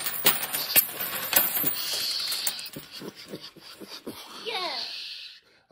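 Quarters clink and jingle in a scattered cascade, sharp metallic taps landing close by. A voice murmurs briefly near the end.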